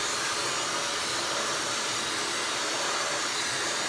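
A Dyson Supersonic hair dryer runs continuously at close range, a loud, steady, airy whoosh with no pauses and no voices over it.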